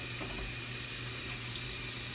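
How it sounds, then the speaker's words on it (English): Tap water runs steadily into a bowl in a home kitchen while baked sweet potatoes are being prepared, a soft continuous hiss and splash with no breaks. "And let me just add some more water to this bowl."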